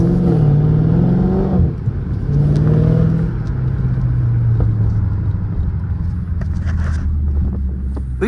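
Dodge Charger 392 Scat Pack V8 heard from inside as the driver hits the gas: two rising revs that swell and drop back, then a deep sustained rumble with wind buffeting.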